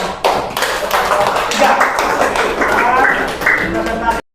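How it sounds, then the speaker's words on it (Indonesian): A small group in a classroom workshop claps hands, close and fairly loud, in quick uneven taps with voices mixed in, stopping abruptly at the end. "Tepuk tangan."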